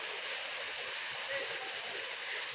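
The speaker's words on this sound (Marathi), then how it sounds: "मस्त असं पाणी खाली पडतं" A constant, broad rushing roar of falling water from the Varasgaon waterfall, fairly distant and unbroken throughout.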